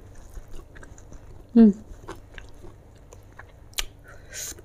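One crisp bite into small raw bitter gourd served as a side with grilled chicken, followed by faint crunchy chewing close to the mic, with a light background hum and no talking over the crunch.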